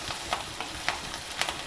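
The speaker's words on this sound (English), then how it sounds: "Stir fry all these till the dals are well browned." Dals and curry leaves stir-fried for a South Indian sweet potato podimas, giving a close, crackling sizzle with quick rhythmic scrapes of the spoon through the pan.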